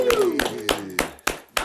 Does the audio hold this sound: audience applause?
yes